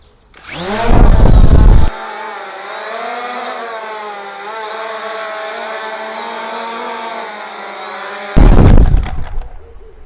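CX-20 quadcopter drone landing on stock landing gear: loud whooshing rotor bursts at start and end bracket a steady, mid-pitched motor whine, with the buzz rising and falling as it settles.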